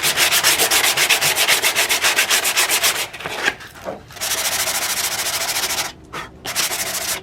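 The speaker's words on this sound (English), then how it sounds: "So I went ahead and sanded down the bog with 120 grit sandpaper." Rhythmic back-and-forth sanding of body filler by hand with 120-grit sandpaper on a car front lip, loud and close, in quick regular strokes that pause briefly and then resume.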